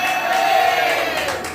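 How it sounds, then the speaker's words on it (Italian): Live theatre audience at a comedy show in Rome shouting and cheering, a loud burst of massed voices and whoops with a sustained yell, close and energetic. "con degli urli, con degli applausi molto potenti"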